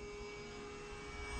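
A Flite Test Bloody Baron RC airplane drones overhead with a steady, faint motor hum at partial throttle, even and unbroken, with no voices over it.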